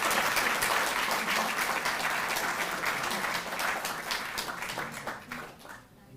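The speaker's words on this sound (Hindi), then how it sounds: "जोरदार तालियां।" Loud crowd applause at an award ceremony honouring sportspeople, dense clapping that runs strong and then fades out toward the end.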